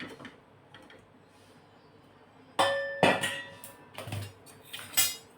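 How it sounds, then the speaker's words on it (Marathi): A metal kadhai is set down on a kitchen stove with several sharp clanks and clinks in quick succession after a quiet start, close by, while palak paneer is being prepared. "इकडे आपण कढई ठेवणार आहोत"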